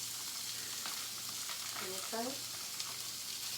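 Hot sausage sizzles and fries in a pan with a steady crackling hiss, close and moderately quiet, while a voice briefly says a word midway through.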